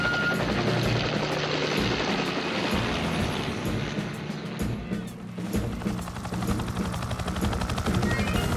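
A cartoon helicopter's rapid rotor thumping in Fireman Sam fills the scene, loud and sustained, with rushing engine noise that dips briefly midway before returning.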